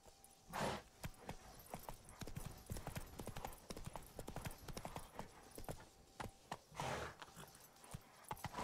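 Horse hooves clip-clop steadily while riding in The Witcher 3, a continuous brisk rhythmic gait close up over ambient game sound, with a brief faint voice.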